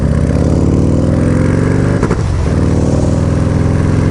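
A Harley-Davidson motorcycle with a Hammer Performance 1275 kit, limited to 3,000 rpm, climbs in loud engine pitch, stutters briefly at the rev limiter, then settles back into a steady close roar with wind noise.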